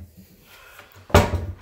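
A drawer in a bathroom slides and bumps shut with one short, fairly loud knock near the end, after a quiet room stretch.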